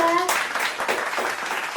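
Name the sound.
applause for group 3 in a classroom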